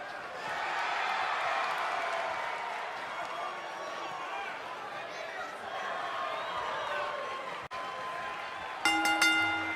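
A live crowd at a professional wrestling event applauds and cheers, a steady wash of clapping and voices filling the space for most of the moment before it briefly drops and a loud, tonal burst of sound cuts in at the end.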